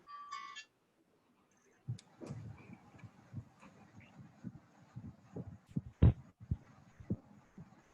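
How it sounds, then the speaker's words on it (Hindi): A phone rings with a brief electronic tone during an online chemistry lesson. The ring is followed by silence and then scattered faint clicks, knocks and rustling movement. "One second, फोन बज रहा है।"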